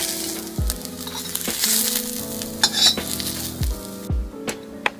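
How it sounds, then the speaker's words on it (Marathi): Sliced onions roasting in a little oil on a flat pan sizzle up close, broken by several sharp scrapes and clinks of a metal spatula against the pan. "कापून घेतलेले कांदे यामध्ये भाजून घ्यायचे आपल्याला."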